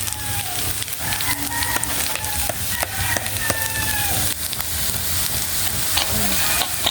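Corned beef frying in a pan, a steady loud sizzle and crackle with stirring clinks throughout, up close and with no one speaking.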